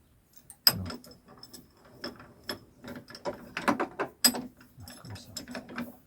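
A ratchet tightening a part on a Yamaha Bruin quad: a series of sharp mechanical clicks and clatters in irregular bursts, close up, with brief pauses between turns.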